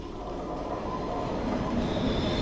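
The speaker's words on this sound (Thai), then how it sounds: "มีรถไฟ" A video-game train rumbles steadily past with a continuous low roar and faint metallic wheel noise, fairly close, with no voices.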